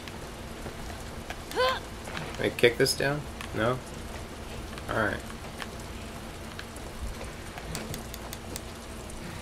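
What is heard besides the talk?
rain in video game The Last of Us Part II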